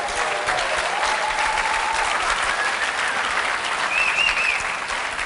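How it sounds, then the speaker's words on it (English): Conference audience applauds the organizer in a steady, dense wash of clapping that holds evenly throughout, with a few faint whistles rising above it. "Can we give him a round of applause, please?"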